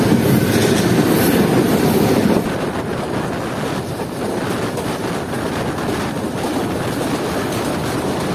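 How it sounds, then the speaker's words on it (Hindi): The Zikriya Express, on its run from Karachi to Multan, speeds toward Empress Bridge: a loud, close rumble of rolling wagons with faint clickety-clack and wind buffeting the microphone. The roar drops to a slightly lower, steadier level partway through. "अब हमारी ट्रेन तेज़ी से अप्रोच कर रही है एम्प्रेस ब्रिज की तरफ"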